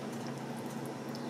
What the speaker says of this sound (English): So the fish and shrimp stock has been simmering for a while